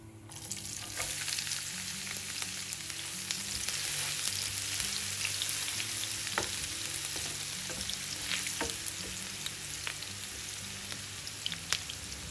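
Chopped onion with cumin seeds frying in hot oil, a steady dense sizzle with scattered crackles and pops throughout, close and continuous without any talk.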